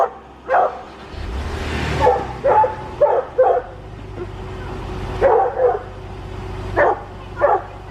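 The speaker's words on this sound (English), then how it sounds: "there's Ruby barking away" A dog barks outdoors in a series of sharp, loud barks, some in quick pairs, spread irregularly over several seconds, with a low vehicle rumble in the background.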